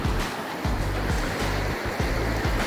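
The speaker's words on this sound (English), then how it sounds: "Not sure what this creek is called or river." A creek or small river flows over rocks in a continuous loud rush of water, close by, with rhythmic surging churn and no voices.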